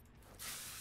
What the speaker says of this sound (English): Give this one a spray.